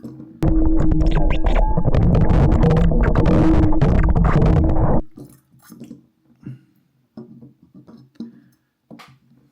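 Loud churning, sloshing water for about five seconds as an Insta360 Ace Pro 2 camera with a lens cap is swished around, then quieter scattered drips and small splashes.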